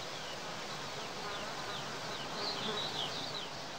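Honeybees of a heath skep apiary buzz around blooming cornflowers and chamomile, a soft continuous hum with several higher whines of individual bees passing close by.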